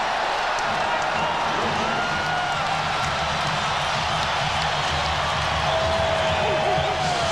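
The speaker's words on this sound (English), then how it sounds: "Standing ovation from this capacity crowd in Chicago" Dense, steady roar from a capacity basketball crowd in Chicago giving a standing ovation as the Bulls lead the Washington Bullets after a Michael Jordan move; loud and unbroken throughout, with a commentator talking over it.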